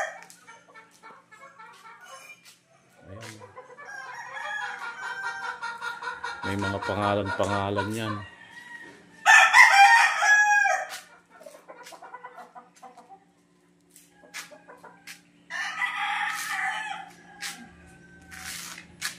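Game farm chickens and roosters crow and cluck, with repeated loud crows rising and falling across the scene, several close and some farther off, while someone speaks briefly between them.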